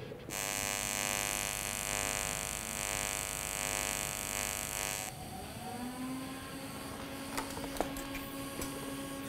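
An AC TIG welder works on sheet metal with a steady, loud electric buzz for about five seconds. It then cuts out, leaving a softer hum with a few faint clicks and taps.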